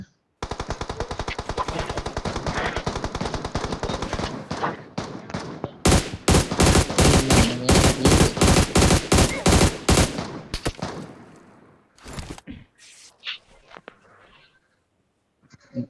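Rapid bursts of gunfire in the video game PUBG Mobile, long automatic volleys followed by heavier spaced shots, loud and close, tapering into scattered faint shots near the end.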